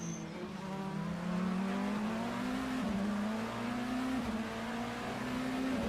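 Endurance race cars at the 12 Hours of COTA, including a Mercedes and an LMDH prototype, heard as a sustained loud engine drone that climbs steadily through gears with brief shift dips, close and continuous.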